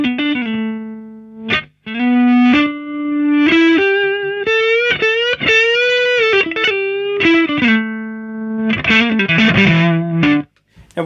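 An electric guitar runs through overdrive on a t.c. Electronic Nova System, playing sustained, singing single notes and short bends with a warm driven tone, loud and upfront with brief pauses between phrases.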